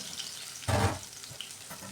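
Garlic frying in cooking oil until golden brown for ginataang tulingan, a steady soft sizzle with a brief louder burst of crackling partway through.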